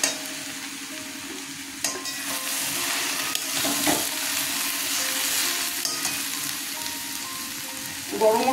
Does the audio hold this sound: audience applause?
no